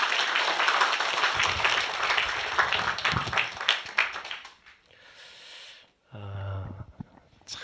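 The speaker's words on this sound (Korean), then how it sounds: "우리 하나님께 영광 박수 올리겠습니다." A church congregation claps together loudly for about four seconds. The applause fades into scattered claps, and a brief musical tone follows near the end.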